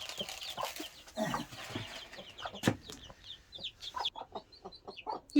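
A hen clucks repeatedly in a coop where chicks have been placed beside her, with short, close, uneven bursts of clucking and no talk over it.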